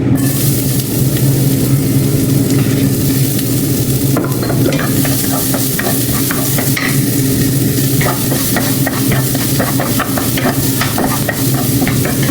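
Plenty of garlic sizzles in a pan while a utensil stirs and scrapes it, a steady loud frying hiss broken by repeated clicking strokes of the spoon against the pan.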